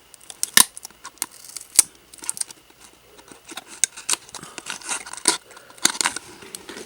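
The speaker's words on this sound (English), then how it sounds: "I'm just trying to get this piece of tape off" Tape being picked and pulled off mousepad packaging: scattered sharp crackles and short tearing rips, irregular and close, with quiet gaps between bursts and no speech.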